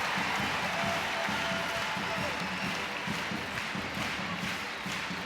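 Arena crowd at a Nebraska vs. Wisconsin NCAA volleyball tournament quarterfinal during a Wisconsin timeout, a steady dense roar of cheering and chatter with scattered claps, loud and continuous throughout.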